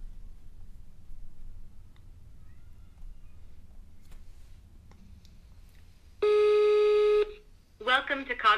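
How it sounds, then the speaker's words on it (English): A phone call to a virtual agent voice gateway, heard as a single loud tonal ring lasting about a second after near silence, followed by a synthetic voice beginning to speak. "Now I use my phone in order to call the phone number that is connected to the voice gateway."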